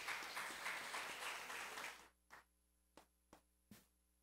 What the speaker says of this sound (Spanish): Denle un aplauso al hermano porque él sabe de esto